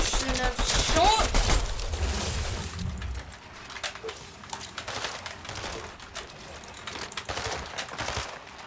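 In Fortnite, a burst of rapid gunfire rattles loudly for the first few seconds, then gives way to quieter game sounds and scattered clicks with footsteps, and a voice talks over the action.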